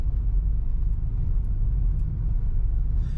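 Steady low rumble of a car interior while driving slowly past construction near the main entrance to Playacar in Playa del Carmen, a continuous road and engine drone with no talk.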